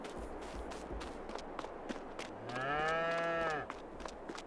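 A cow in Farming Simulator 22 lets out a single drawn-out moo of about a second, over quiet footsteps and a faint farmyard background.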